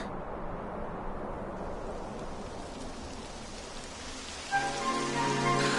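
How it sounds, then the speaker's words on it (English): Steady rain pattering on surfaces in the video game Dragon Quest XI, a continuous soft hiss of falling drops, joined near the end by a brief tonal game sound. "It would have to go and start raining, wouldn't it?"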